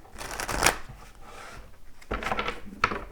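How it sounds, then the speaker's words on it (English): Tarot cards being shuffled in crisp riffling bursts, close up, with a pause between two rounds of shuffling. "I always like to do a really good shuffle on camera here as well."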